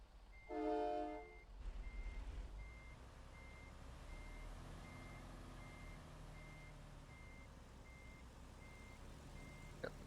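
A truck in American Truck Simulator backs up with steady, evenly spaced reversing beeps over a low diesel engine rumble, after a brief louder horn-like toot at the start.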